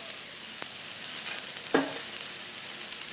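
Veggie chunks fry in a hot pan for a Jamaican-style curry, giving a steady close sizzle with a brief clatter as they are stirred.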